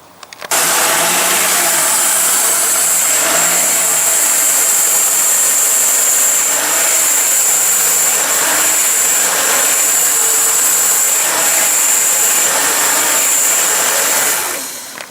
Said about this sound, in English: I'm going to turn the car on, and I'm going to turn the wheels left and right.